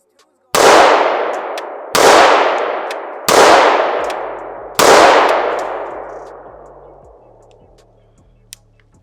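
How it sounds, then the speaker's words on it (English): An AR-15 rifle fires four loud, separate shots outdoors, each a sharp metallic crack with a long ringing decay, while the recoil buffer spring adds a ringing metallic twang. "that recoil spring, that buffer spring is very loud in my ear"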